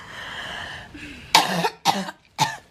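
A person coughs three times in quick succession, loud and close, each burst sharp and separated by brief gaps, after a stretch of quieter breathy sound.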